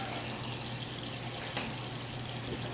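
Steaming hot water runs from a small tap in a sink for rinsing a disassembled Thompson suppressor, a steady, even rushing flow throughout with no talk.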